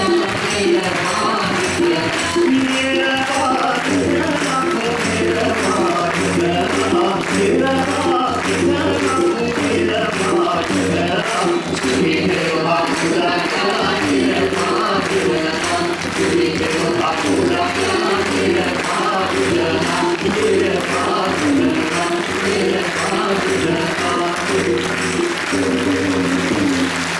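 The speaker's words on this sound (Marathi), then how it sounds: "इतक्या तालात टाळ्या वाजवण्याला मी कधी ऐकलं नाही" A large audience claps steadily in time throughout, a dense, continuous, even rhythm of hand claps at a musical program, loud and close with no voices standing out.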